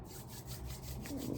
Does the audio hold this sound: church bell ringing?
no